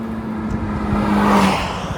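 A modified Mazda Miata with roughly doubled power, its engine note rising and swelling to a peak mid-way before easing off, loud and close with no talk over it.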